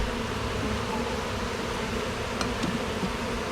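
A dense, continuous buzzing of a captured honeybee swarm, close and steady, with no pauses and no voices.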